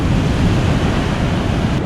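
Big ocean waves crash onto Kelingking Beach on Nusa Penida as the tide comes in, a loud continuous roar of surf mixed with heavy wind buffeting the microphone.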